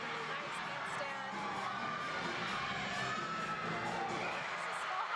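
Crowd cheers and shouts fill a gymnastics arena after a bars dismount, a steady dense roar with excited whoops, loud and continuous throughout.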